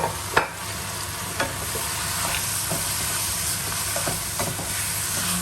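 Holy basil and squid stir-fry sizzles in a hot pan, a steady hissing fry with a few sharp clinks and scrapes of a spatula stirring, close and continuous with no talking.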